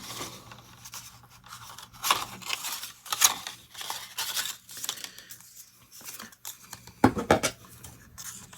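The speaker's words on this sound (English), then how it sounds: "And I need to cut just a little bit further." Scissors cutting through paper card for a tunnel card craft, giving a series of close, crisp snips and rustling scrapes in irregular bursts, with one louder sharp cut near the end and no talk.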